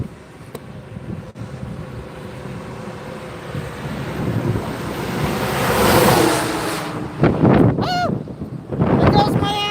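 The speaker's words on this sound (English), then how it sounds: "It's getting a little bit windy." Gusty outdoor wind roars across the microphone, building into strong buffeting swells mid-clip, with a voice briefly breaking in near the end.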